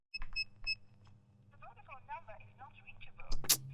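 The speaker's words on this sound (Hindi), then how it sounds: "फोन लगा जल्दी से।" A phone call being placed in a movie scene, a few quick electronic dialing beeps followed by a warbling ring tone, faint and tinny, under a low background hum and ending with a sharp burst.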